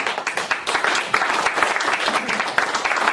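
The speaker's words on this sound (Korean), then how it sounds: "큰 박수 부탁드립니다" Steady applause from a lecture audience welcoming a speaker, many hands clapping densely and continuously without a break.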